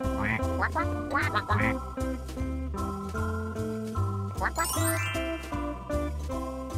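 A run of sharp cartoon duck quacks from a children's farm counting game, several in quick succession at the start, layered over upbeat looping music with a jingling chime.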